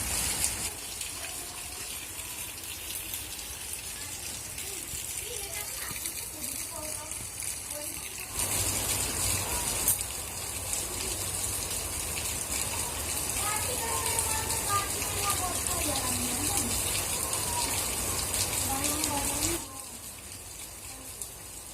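Rain falling steadily over a village, a continuous broadband hiss that thickens into a heavier downpour in the middle stretch before easing, with faint voices and occasional sounds of village life underneath.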